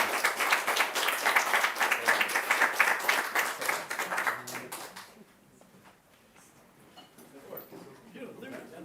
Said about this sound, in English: So again, another round of applause and pizza upstairs.